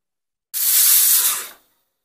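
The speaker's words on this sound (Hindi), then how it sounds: "मैं इसको बड़े गैस पर ही जल्दी से जल्दी सिटियाँ लेकर कुकर को निकाल लूँगा" Steam bursts from a pressure cooker whistle on a high gas flame while chickpeas cook, a single loud, broad hissing rush lasting about a second before cutting off.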